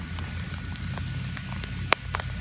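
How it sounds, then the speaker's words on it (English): Steady pouring rain in the open at a metal detecting site near an old mill in South Carolina, a dense continuous patter with one sharp close tick partway through and no talk. "it's pouring down rain"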